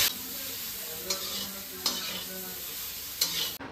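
Fish sizzles in a pan of hot oil, a bright, constant hiss with a few brief scraping bursts from a spatula, close and even, with no voices.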